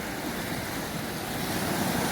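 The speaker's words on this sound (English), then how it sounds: "Some days the sea's a bit rougher than others." Caribbean sea waves break and wash onto the beach at Juan Dolio in the Dominican Republic on a rougher day, a steady close roar with wind buffeting the microphone.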